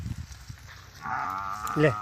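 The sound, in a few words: buffaloes bellowing while being herded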